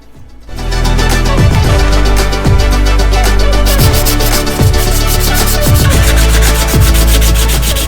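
Walls are hand-sanded before painting in a basement being converted into a studio apartment, giving a steady, close abrasive scrubbing with a regular back-and-forth stroke rhythm and no talking.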